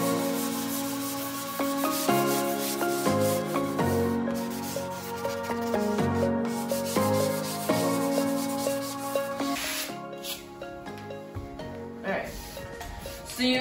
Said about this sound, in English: This is a super, super high grit, and the higher the better because it's not like, it's not rough at all. So this is perfect for just doing a scuff sand.